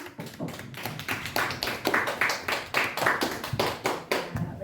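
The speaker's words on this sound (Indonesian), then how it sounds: "kasih tepuk tangan untuk Bu Uli, Bu Ulan." Group of teachers clapping for a colleague during a workshop session, a steady patter of many hands, moderately close, lasting throughout with uneven rhythm.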